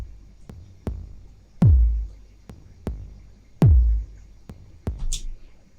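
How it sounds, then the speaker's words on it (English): A soloed kick drum channel from an electronic sound design project thumps in a steady pattern, with some hits swelling into long, booming low tails that drop in pitch. "This is the channel called kick"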